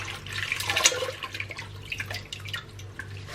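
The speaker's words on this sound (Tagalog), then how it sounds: "Hinugasan ko siya ng malamig na tubig." Lettuce, romaine, is rinsed under cold running tap water in a sink, producing a close, irregular splashing and dripping with scattered bright droplet patters over a low steady hum, with no speech.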